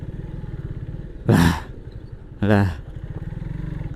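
A Kawasaki W175 classic motorcycle rides along a wet road, its engine putting in a steady, rhythmic thump throughout. Two short bursts of a voice sit on top of the engine.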